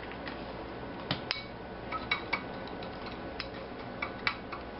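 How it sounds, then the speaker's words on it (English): Sugar and cinnamon stirred into a fruit salsa, light spoon clinks and ticks against the bowl in a loose irregular series over a faint steady hiss, quiet and close. "And just stir it up."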